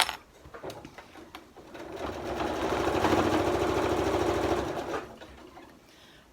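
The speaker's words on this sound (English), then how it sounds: "I'm just going to sew right off the end." A sewing machine stitches across thick bunched seams of fabric while assembling an upcycled zip pouch, its needle whirring in a steady rapid buzz that swells for a few seconds, then stops.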